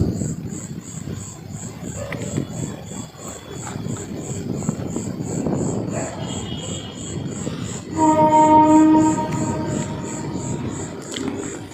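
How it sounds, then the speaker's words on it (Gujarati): A train rumbles past on tracks beside a farm field with a steady roar, a horn-like tone sounding briefly midway, under a rhythmic high chirping. "અહીંથી ટ્રેનના પાટા નજીક છે એટલે અવાજ આપણે આવ્યા કરતો હોય"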